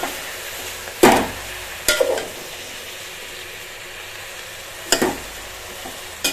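Coriander leaves wilt in a hot pan, giving a soft steady sizzle with a few sharp scrapes of stirring at intervals, close by and alone.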